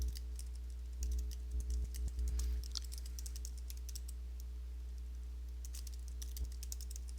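Someone types code on a computer keyboard in a steady patter of close, soft key clicks, with a few louder thumps near the start over a constant low electrical hum.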